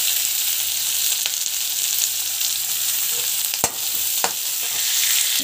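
Onions fry in a pan with mustard seeds, cumin and chana dal, a steady close sizzle with a few sharp stirring scrapes and no talking.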